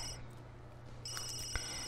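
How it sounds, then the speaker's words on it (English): A telephone rings in The Sims 3 life-simulation game, its electronic trill repeating as a clear tone over a steady game background hum, with no talking. "And please turn your friggin' phone off."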